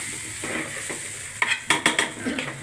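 Food being stirred in a cooking pot with a spatula over frying heat, a steady sizzle underneath and a few sharp scraping strokes near the end, close and fairly loud.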